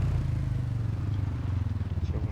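A vehicle engine runs at a steady idle, a low, even rumble with a slight pulsing throb that stays constant throughout.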